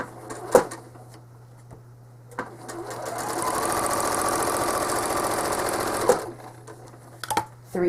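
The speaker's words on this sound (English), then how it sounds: "And now I'm going to stitch feathers the same way" A home sewing machine stitches feathers on a small quilt, its motor running in one steady whirring burst of several seconds, with quieter clicks and handling before and after.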